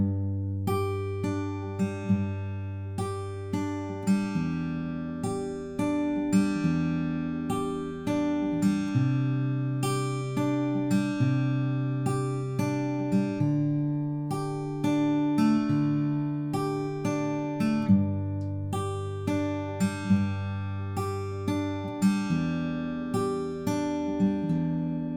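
A solo acoustic guitar fingerpicks the verse of a song, with steady plucked arpeggios over a moving bass line, ringing clearly and close without any voice.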